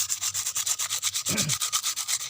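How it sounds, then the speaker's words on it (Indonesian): Rapid back-and-forth sanding strokes on a sprouting coconut's hard shell, a rhythmic gritty rasping, close and steady, with no voices. "supaya lebih halus kita amplas ya, biar hasilnya lebih maksimal. Kita amplas seperti ini."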